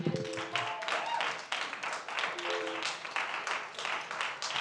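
Audience members clap at a school board meeting, a scattered run of sharp claps over several seconds mixed with murmuring voices in the room.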